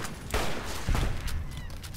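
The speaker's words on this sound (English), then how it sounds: "I think we might have found out who's shooting the shit out of the village down there" Distant gunfire in the video game Fallout New Vegas, a few muffled bursts of shots echoing from afar across a village, with no voices.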